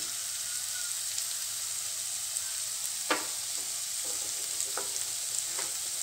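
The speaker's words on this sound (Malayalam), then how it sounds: "ഗ്യാസിനെ നമുക്ക് ഇതൊന്നുകൂടെ ഇളക്കി വെച്ച് ഗ്യാസിനെ നമുക്ക് ഒരു മീഡിയം ഫ്ലെയിമിലാക്കി വെക്കാം" A bread potato sandwich filling fries on a tawa over a medium flame under a constant soft sizzle, with a few faint scrapes from a stirring utensil spread across it and no voices.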